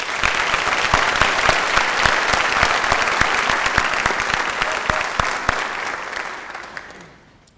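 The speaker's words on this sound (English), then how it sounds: "Please join me in applauding the dedication and efforts of these individuals." Audience applause fills a high school graduation ceremony from 2006, dense and steady with sharp individual claps standing out, holding loud for several seconds before tapering off at the end.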